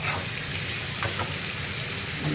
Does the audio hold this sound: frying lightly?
yes